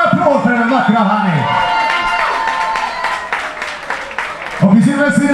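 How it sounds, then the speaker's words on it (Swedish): An audience at the Miss Universe Sweden 2013 final breaks into applause and cheering, a broad clapping wash between bursts of a presenter's voice that opens and closes the stretch. "En stor applåd för den vackra Hanni."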